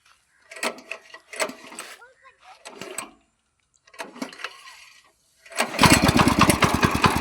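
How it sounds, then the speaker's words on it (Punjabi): Several short bursts of voices and noises, then a tractor engine cranks and starts, settling into a loud, steady chugging idle close by. "ਦੇਖਿਓ ਸਟਾਰਟ ਹੁੰਦਾ ਟਰੈਕਟਰ"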